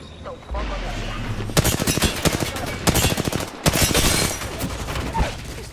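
Rapid automatic gunfire from a shooter video game rattles loudly in long sustained bursts with brief gaps, heavy and close, while a voice speaks over part of it.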